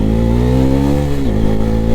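Bajaj Pulsar NS400 motorcycle engine revving hard under throttle, a loud, steady mid-pitched roar that holds and then drops in pitch near the end, close and continuous with no talk.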